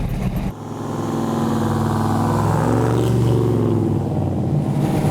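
A custom 1953 Studebaker with a twin turbo engine running on race fuel revs up close by, its deep, loud roar swelling and holding with a throaty rumble and no speech.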